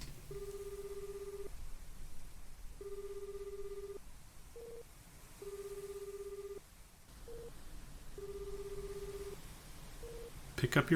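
Telephone ringing in the video game Astlibra Revision, a repeating electronic ring tone in regular bursts with short beeps between them, moderately loud over a quiet background with no talk.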